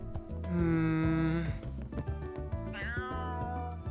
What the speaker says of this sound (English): Cats can be such fickle creatures by nature, as I'm sure you all know